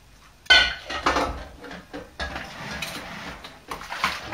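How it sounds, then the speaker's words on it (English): A spoon stirs a thick sludge of hot hops and water in a brewing pot, giving a sharp metallic clank followed by repeated scraping and knocking against the pot sides, close by and without talk. "Now I'm going to stir all that."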